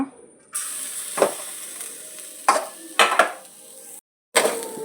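Grated coconut frying in a pan for Mangalore-style chicken sukka, a steady sizzle broken by several scraping stirs of a spatula and a brief silent gap near the end.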